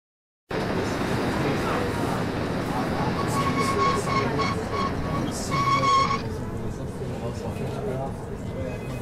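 A small toy train rumbles along continuously, with a brief run of bright, whistle-like tones near the middle before the rattling carries on.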